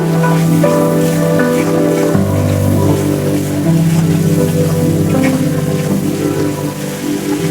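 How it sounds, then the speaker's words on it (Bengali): Spice paste fries with salt and turmeric in a pan for a thin rohu fish curry, a steady loud sizzle running throughout with a low stove hum beneath. "এবারে দিয়ে দিব লবণ হলুদ। এবারে মশলাটাকে কষিয়ে নিব।"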